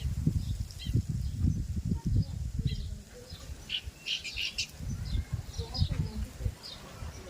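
Sparrows chirp around their nests: scattered short, high chirps and twitters of moderate loudness, clustered mostly in the second half, over a low, rumbling background.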